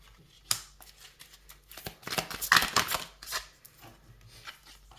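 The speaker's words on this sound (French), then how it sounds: "On va aller voir avec l'oracle ce que ça nous dit en plus." A deck of oracle cards is shuffled nearby, with a few scattered flicks before a busy burst of riffling in the middle, then quieter taps.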